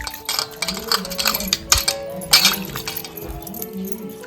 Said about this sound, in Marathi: आधी धुवून घेऊया आपण धुवून घेतो इकडे सर्व पाणी घेतलेलं आहे